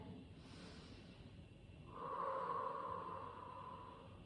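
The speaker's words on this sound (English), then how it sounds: "Have a big breath in here." A deep breath drawn in during a yoga stretch, a soft but clear inhalation close to the microphone that swells for about two seconds and then fades against quiet background hiss.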